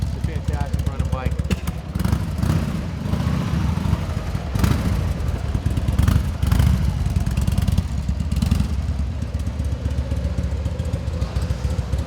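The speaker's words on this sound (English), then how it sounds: "It's a fantastic running bike." A 1999 Harley-Davidson XL1200C engine runs indoors, its steady, loud, rumbling throb continuing without a break and filling the room.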